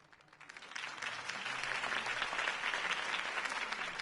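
Crowd applause in a video game's city campaign rally swells up from quiet and holds as a dense, steady wash of clapping, moderately distant and without talk.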